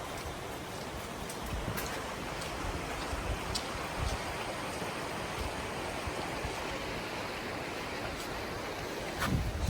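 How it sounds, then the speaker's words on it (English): Creek water in The Narrows rushes steadily past, a constant broadband wash of flowing water that holds even throughout, with no voices over it. "There's the creek."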